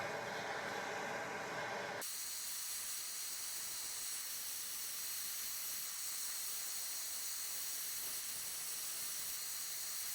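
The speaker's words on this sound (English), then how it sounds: "I just kind of heat up that spot there where the wheel bearing bolts into" A torch heating the spot on a car's hub where the wheel bearing bolts in: a steady, close roaring hiss that shifts abruptly in tone early on, then holds constant with no talk.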